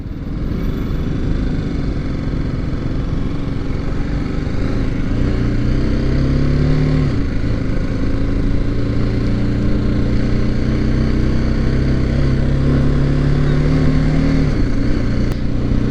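Close, steady engine drone of a BMW G310GS BS6 adventure motorcycle pulling hard under acceleration on the road, pitch climbing through the gears with brief dips at shifts, with no talking over it.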